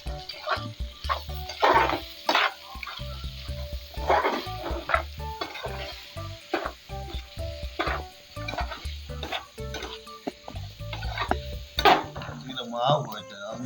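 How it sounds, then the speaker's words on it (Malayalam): Onions and beef fry in a pot for beef botti fry, sizzling with repeated scraping and clinking stirs at close range, under intermittent talking. "നന്നായിട്ട് ഇളക്കി കൊടുക്കും."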